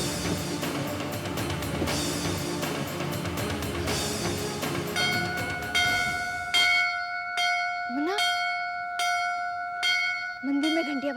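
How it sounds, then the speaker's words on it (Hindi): Temple bells ring out with steady metallic strikes that start under a busy, noisy crowd, then ring clearly with long sustained tones and repeated strokes, while a voice calls out a name. "मंदिर में घंटियां बज रही है।"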